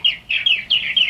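A purple martin chirper call: a rapid series of bright, close chirps in quick bursts, about four or five repeating phrases, loud and clear with no talking.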